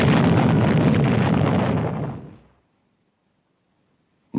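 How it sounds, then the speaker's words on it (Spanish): A huge explosion on the surface of the sun in a 1950s science-fiction film about flying saucers attacking Earth: a loud, sustained roaring blast that fades out after about two seconds into near silence, ending with a sharp sound. "Entonces, se produjo una tremenda explosión en la superficie del Sol."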